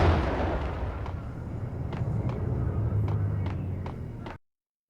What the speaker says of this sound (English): Be careful, there are grenades that are going to come off in here too.